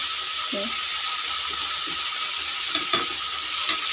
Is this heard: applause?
no